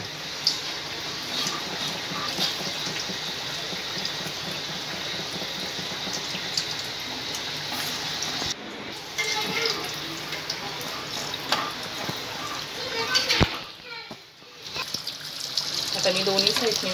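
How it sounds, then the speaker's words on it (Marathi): Vada fritters drop into hot oil in an iron wok and sizzle, a steady bright hiss with crackling pops throughout, a couple of brief clatters along the way, while a person speaks over it. "तेल पण छान तापले, आता आपण ह्यामध्ये वडे सोडून घेऊ।"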